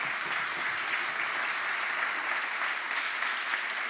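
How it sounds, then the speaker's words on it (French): Steady, continuous audience applause fills the room at a French-language Biomimexpo 2024 talk, dense and even throughout with no pauses or voices standing out. "On peut l'applaudir."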